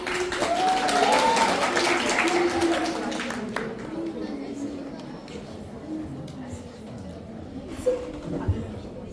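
An audience at a school literary café presentation in Iguaí, Bahia claps, starting as a full burst of applause that thins into scattered claps, with voices and chatter over it.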